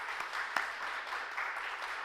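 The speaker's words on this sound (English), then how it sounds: "I applaud her for that." A church congregation applauds in a brief, steady burst of many hands clapping at moderate volume.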